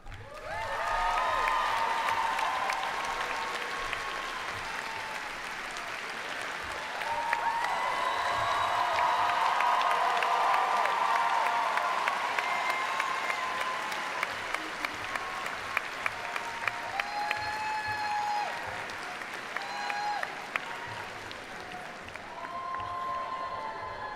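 Sustained applause from a large crowd at a SUNY Oswego college commencement ceremony, loud and continuous for the whole stretch, swelling in the middle, with faint cheers mixed in.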